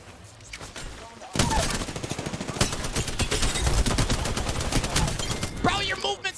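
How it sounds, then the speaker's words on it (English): Gunfire from a rival team in Apex Legends, Season 9, rapid automatic bursts that start abruptly after a quieter opening and keep cracking densely, with a voice talking over the shooting. "Was that the Octane that was shooting us from a distance?"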